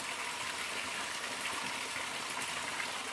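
Water spouts steadily from a dragon-shaped village fountain, a continuous broadband gush with no breaks, moderately loud and close, with no voices.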